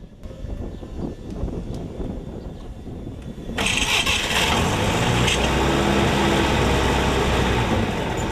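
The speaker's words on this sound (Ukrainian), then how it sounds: "І найбільш урочиста мить запуск двигуна" A UAZ off-road vehicle engine cranks with rapid rough pulses, then catches and roars into a steady, loud running rumble close by.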